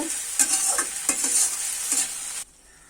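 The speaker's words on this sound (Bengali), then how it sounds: "ততক্ষণ পর্যন্ত আমি শাকটা এভাবে ভাজতে থাকব" Water spinach (kalmi greens) fries in oil with a close, crackling sizzle and rustling stir strokes. The scrapes come in quick bursts before the sound drops away suddenly.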